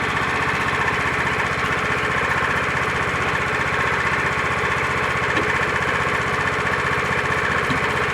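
A small gasoline engine running on gas from a portable gasifier, idling with a steady, close-up putter and rattling vibration that holds unchanged throughout, with no one talking.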